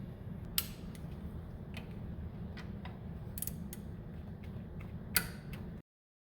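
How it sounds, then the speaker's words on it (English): A wrench works on the 12mm bolts of a distributor on a 1996-2000 Honda Civic, producing scattered sharp metallic clicks and creaks over a low steady hum before the sound cuts off abruptly. "So what I'll do now is I'll take off the 3 12mm bolts."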